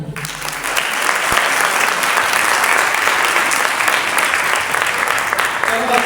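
Church congregation clapping together, a dense loud burst of applause that starts abruptly and keeps a steady wash for several seconds.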